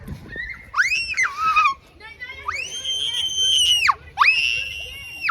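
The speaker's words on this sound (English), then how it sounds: "All right, stop screaming." A child screams loudly outdoors at a park, letting out three long, high-pitched shrieks separated by short pauses, with faint background noise between them.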